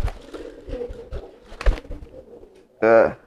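Newly acquired domestic pigeon, a male in courtship chasing mode, gives a short throaty coo near the end, close and clear, after a stretch of soft speech and rustling.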